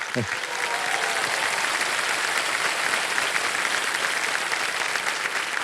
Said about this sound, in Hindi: और तालियों के साथ स्वागत करती है